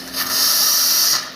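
Hot water hisses steadily from the spout of a freshly serviced La Marzocco Linea Mini espresso machine, a close, even spray that rises quickly and cuts off after about a second.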